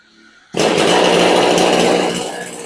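After a quiet moment, a petrol chainsaw bursts into life and runs at a loud, steady buzzing roar, close by.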